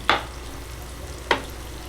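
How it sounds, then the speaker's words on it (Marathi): Big surmai kingfish pieces fry in a pan and are turned over, marked by two short, sharp scraping sizzles over a steady low background hiss. "आता सुरमई पलटी करते दोन्ही पण सुरमई पलटी केलेली आहे"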